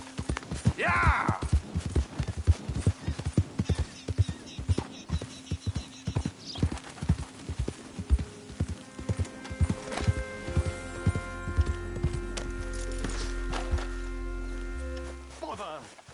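Horse hooves clip-clop in Red Dead Redemption 2, a steady rhythmic gait up close while a voice urges the horse on, then the hoofbeats give way to a low rumbling bed and tonal game sounds.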